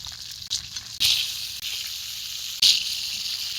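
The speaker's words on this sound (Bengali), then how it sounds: "মাছের এক পাশ ভাজা হয়ে গেছে," Marinated tilapia fries in hot oil, a steady bright sizzle with two sharp flare-ups as the pieces shift, close and loud, with no talk.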